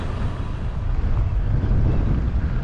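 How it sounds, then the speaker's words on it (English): Strong wind buffets the microphone on open, empty countryside during a long bike ride in Wales near Stwlan Dam, a steady low rushing roar with no voices. "It is windy though."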